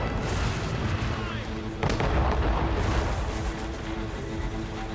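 Ship cannons boom in a naval ambush battle in Assassin's Creed Rogue, a dense barrage of heavy, rumbling blasts continuing throughout, with a sharp loud volley near the middle and shouting voices under the gunfire.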